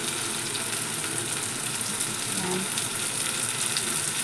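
Onions and tomatoes fry in a pan, giving a steady, close, even sizzle that runs without a break, with one short spoken word partway through.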